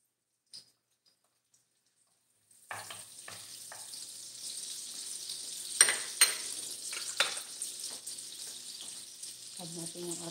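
Butter melts and fries in a pan for pork kaldereta; after a near-silent start with one brief clink, a bright sizzle begins and holds steady, with a few sharper crackles and spatters.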